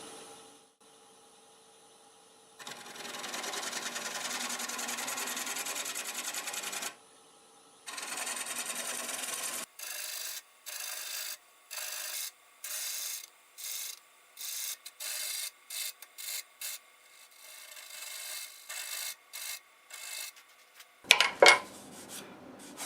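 Maple burl and padauk are worked on a wood lathe at about 600 RPM, with long scraping passes followed by many short rhythmic cutting bursts and a few sharp knocks near the end, all close and free of talk.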